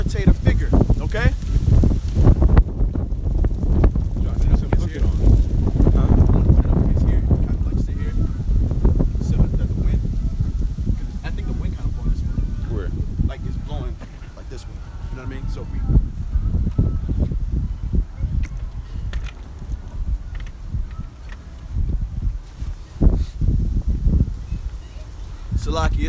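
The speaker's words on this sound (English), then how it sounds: "it's windy out here" Wind gusts buffet the microphone outdoors at a Virginia street camp, making a heavy, continuous rumble. A voice is heard speaking through it.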